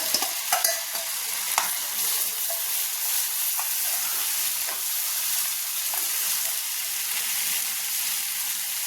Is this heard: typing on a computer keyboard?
no